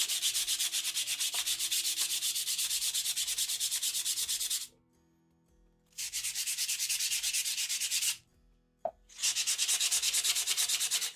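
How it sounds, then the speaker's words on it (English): Fine-grit sandpaper rubs over garden tools in fast, even back-and-forth strokes, loud and close, in two long bursts separated by short pauses. "we're just gonna pretty quick go with pretty fine grit sandpaper"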